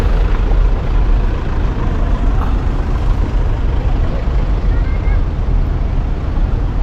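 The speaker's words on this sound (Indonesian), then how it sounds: "Madinah Bus." Broadband rumble of a Madinah bus with air brakes, steady and loud throughout, heard from on board or close by with a brief hiss; no clear voices.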